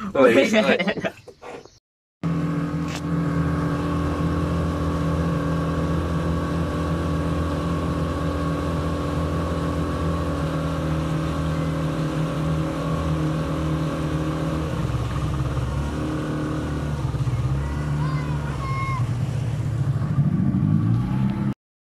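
A small boat's motor, carrying about six people near the Mentawai Islands, drones steadily and loudly throughout, with a low engine hum after a brief burst of noise at the start.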